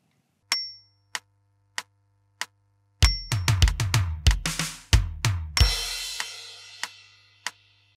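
Drum fill of snare and tom hits rolling in a rapid cluster before a crash, framed by sparse single clicks and a steady low tone, from a drum part; loud and alone, no talk.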